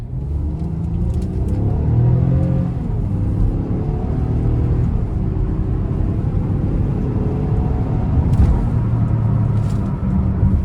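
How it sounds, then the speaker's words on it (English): A 2026 Nissan Pathfinder SL 2WD accelerates hard up an interstate on-ramp, its engine rumbling and rising in pitch through the gears inside the cabin, steady and loud with road noise and no talk. "Now I'm gonna try to give it a good pull getting on the interstate here"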